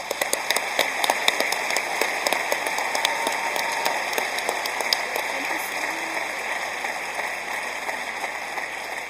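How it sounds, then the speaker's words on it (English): Steady applause from parents and teachers in a school auditorium at an upper-years achievement celebration, moderately loud and continuous, with sharper individual claps standing out. "I would now like to ask the parents and teachers to leave the auditorium after a round of applause."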